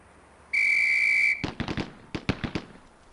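Gunfire from the Police Quest SWAT video game: a sustained whistle blast is followed by a series of sharp, close gunshots fired in quick irregular bursts, with no talking.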